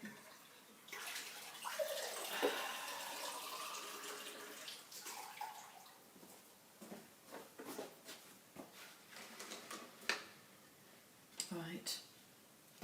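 A tap runs water into a container for clean painting water, with a steady splashing flow that breaks into intermittent gurgles and drips, faint and close by.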